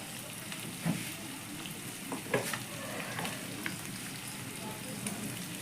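Ginger paste and spices being stirred in a hot pan for Bengali muri ghonto, a steady soft sizzle with a few light scraping knocks of the spoon, close and alone.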